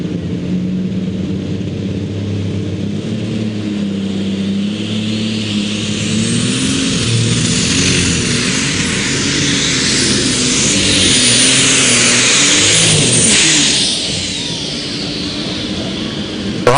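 A pulling tractor roars down the track at a tractor pull in Benson, North Carolina, its loud engine climbing steadily in pitch and intensity before dropping off near the end, with no talk.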